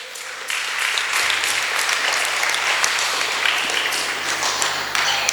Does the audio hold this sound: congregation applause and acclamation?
yes